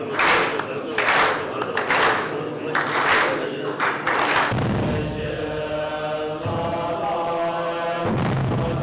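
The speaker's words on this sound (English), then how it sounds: "the rituals include clapping of hands" Hands clap in a Lama ritual at a Buddhist monastery in Sikkim, the claps coming as several loud, roomy bursts in the first half, then a sustained droning tone takes over with another burst near the end.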